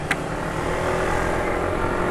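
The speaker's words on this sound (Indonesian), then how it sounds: "Tapi ini suara mesin sudah termasuk cukup kasar." A Yamaha motorcycle engine running on a large dose of mixed silicone oil drones steadily and roughly at close range, a dense low rumble with no speech.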